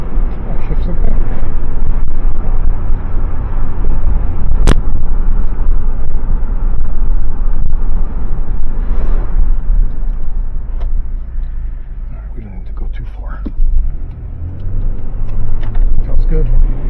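A GMC Envoy driving and shifting gears, its engine a loud, steady low rumble with road and wind noise inside the cabin, easing slightly midway before building again.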